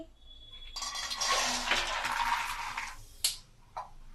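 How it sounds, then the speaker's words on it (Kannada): Peanuts fry in hot oil in a pan for mango chitranna, a dense burst of sizzling crackle that swells for about two seconds and then dies away, followed by two short clinks. The sound is close, with no talking. "ಆಯಿಲ್ ಬಿಸಿಯಾಗಿದೆ. ಕಡಲೆ ಬೀಜ ಫ್ರೈ ಮಾಡ್ಕೊಳ್ಳೋಣ ಬನ್ನಿ."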